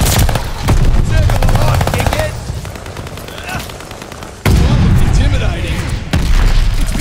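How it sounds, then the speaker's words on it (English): Mortar and gunfire during a team deathmatch in the video game Call of Duty: Vanguard: loud, dense battle noise of rapid automatic fire and booming impacts, with heavy blasts near the middle and end and game voice callouts mixed in. "Friendly mortar fire coming!"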